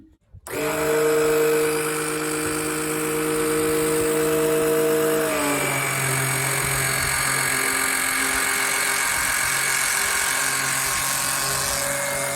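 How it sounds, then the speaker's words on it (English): An oil extraction pump drawing engine oil from a 2014 Opel Corsa D 1.4 starts up and runs as a steady loud motorized whine and buzz, its pitch dropping slightly partway through, then droning on continuously with no talk. "let's start the pump and see what we get"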